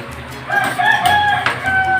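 A rooster crows once, loud and close, a drawn-out cock-a-doodle-doo against a quiet background.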